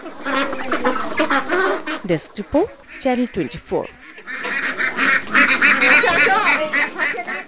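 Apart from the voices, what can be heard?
ducks quacking on a duck farm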